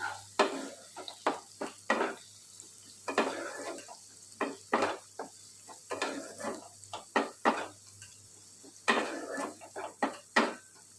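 A metal spoon repeatedly clanks and scrapes in a pan while turmeric and chili powder spices are stirred and fried for a mutton-fat and potato dish, in uneven bursts over a low steady hum.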